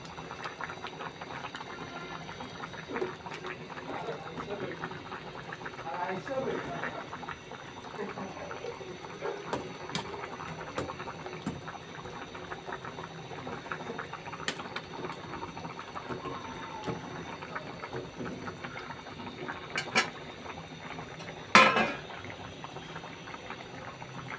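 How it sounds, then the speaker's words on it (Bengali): Tomatoes boiling in a pot on a home stove: a faint, steady bubbling simmer throughout, with a few soft clicks and one brief louder knock near the end, no voices. "টমেটো টমেটোগুলো সিদ্ধ হয়ে গেলে নামায় ফেলবো"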